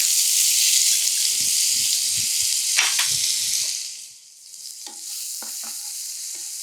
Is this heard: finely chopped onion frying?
yes